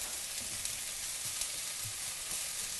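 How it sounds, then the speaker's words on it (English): Thinly sliced shallots frying in a pan, giving a steady, close hiss of sizzling oil with faint pops and no talking. "So we've got the shallots cooking, and I just want to cook them until they're translucent and soft."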